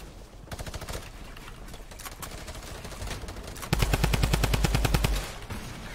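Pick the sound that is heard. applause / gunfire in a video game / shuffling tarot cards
gunfire in a video game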